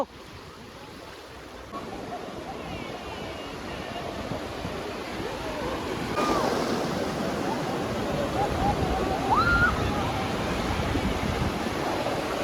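Continuous surf and breaking sea waves at a beach, a steady wash that swells louder midway, with faint wind noise and a brief high chirp over it.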